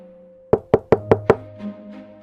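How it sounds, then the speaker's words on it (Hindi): Five loud, evenly spaced knocks on a door in quick succession, followed by a brief soft thud and fading resonance in a quiet room. "तभी दरवाजे पर जोरदार दस्तक हुई"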